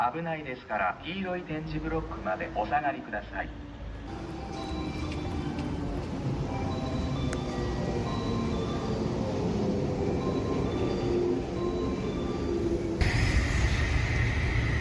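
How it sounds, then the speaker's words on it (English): A Shinkansen bullet train runs on an elevated line overhead near Higashi Okayama Station, giving a sustained, fairly loud rushing rumble with a faint tonal whine. A person talks at the start. "You can see the Shinkansen passing right over you."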